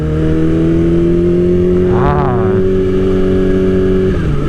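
A Kawasaki Ninja H2 motorcycle engine drones with a high, steady whine, rising briefly in a quick rev midway, loud and close as it rides along.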